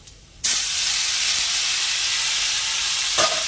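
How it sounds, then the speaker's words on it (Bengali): Tomato dropped into a pan of fried onions sets off a sudden loud, steady sizzle that starts abruptly and holds, with a brief clink near the end. "এবার এই টমেটোটাও দিয়ে দেবো"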